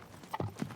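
Horse hooves clip-clop a few times on the ground during traditional gaucho horse training in Argentina, two or three quick nearby steps rising out of a quiet background.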